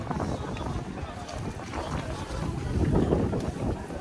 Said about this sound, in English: This is how we were ferried from one part of Ibi to the other part by boat.